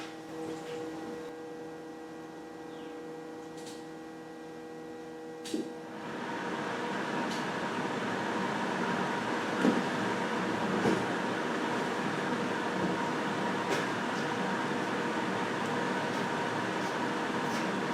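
A newly repaired car heater blower fan starts up after a low hum, then runs as a steady, fairly loud whooshing drone with a few faint clicks, no voices.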